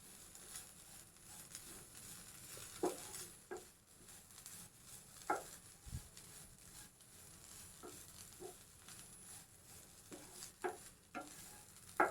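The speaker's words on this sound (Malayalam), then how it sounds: "നമ്മൾ വേവിച്ച് വെച്ച കണവ ഇതിൻ്റെ കൂടെ ചേർത്ത് നല്ലോണം ഒന്ന് തോത്തിയെടുക്കാം." Pre-cooked squid for Kerala squid thoran is tossed and sautéed in a pan, giving a faint, low sizzle with scattered soft scrapes and taps of stirring over about twelve seconds.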